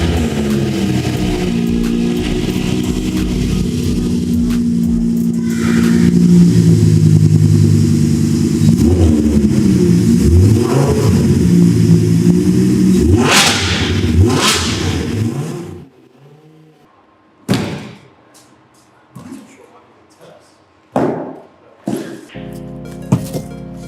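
A Mad Mike drift Lamborghini with an FI exhaust and Liberty Walk body kit revs loudly and close for about fifteen seconds, then cuts to a few short, sharp blips with quiet gaps between them.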